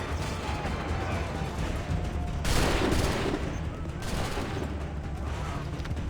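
Musket volleys in the video game Assassin's Creed 3 crackle as dense, sustained gunfire, with a heavier burst in the middle, over constant battle noise and shouted commands.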